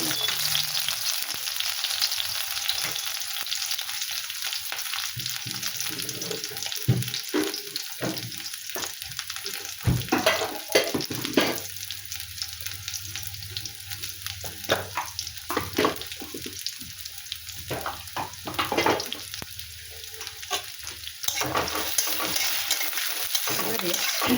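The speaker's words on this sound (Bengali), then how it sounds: "এবারে এর মধ্যে দেবো লঙ্কা কুচি আর পেঁয়াজ কুচি দিয়ে" Chopped green chilli and onion fry in hot oil in a kadai with a loud, continuous crackling sizzle, punctuated by repeated scraping stirs and occasional clanks of the spatula against the metal.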